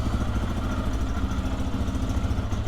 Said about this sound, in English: I get to ride my Lifan KPX 250